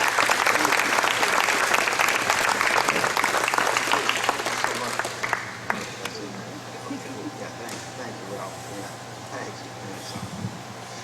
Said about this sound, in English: Another round of applause for the Western Reserve Community Band.